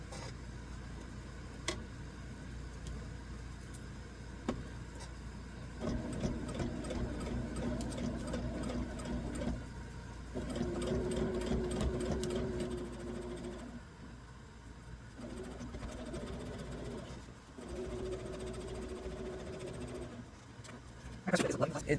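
A sewing machine running a long stitch length through a plastic ruler holder, its motor whirring in several bursts with short pauses, while a person talks over it.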